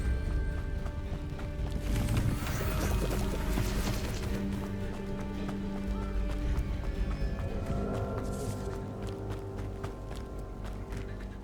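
A waterfall in Hogwarts Legacy rushes with a continuous broad wash of falling water, steady and fairly close, mixed with faint game ambience and no speech.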